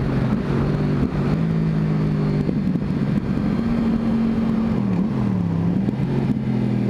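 A 2011 Yamaha R1 motorcycle engine revs hard and steadily for second-gear clutch-up wheelies, its loud, close drone rising and dipping in pitch without pause and with no talk.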